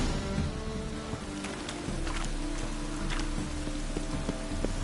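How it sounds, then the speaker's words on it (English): Steady rain in The Witcher 3: Wild Hunt patters and hisses on surfaces, a continuous wash of falling drops with a few louder splashes, without voices. "It's raining again."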